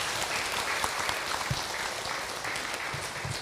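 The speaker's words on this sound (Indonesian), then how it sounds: "Tepuk tangan buat ibu yang bertanya." An audience at an Islamic religious talk breaks into dense, steady clapping that holds evenly for several seconds, many hands mixing into a continuous crackle with no voices over it.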